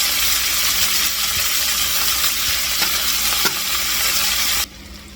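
Chicken crisps in a pan with a steady loud sizzle and hiss of frying oil, a few faint utensil taps within it, the sizzle ending abruptly near the end.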